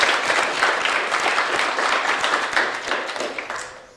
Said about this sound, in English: I say we give them all another round of applause.